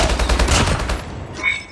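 Rapid gunfire from the mobile shooter Call of Duty Mobile rattles in a quick, loud burst of shots that fades after about a second, followed by a brief quiet tail.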